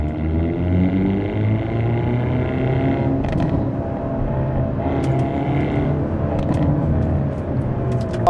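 A 2025 Hyundai Elantra N under way, its engine droning steadily and loudly throughout, with a few sharp exhaust pops breaking through around the gear shifts.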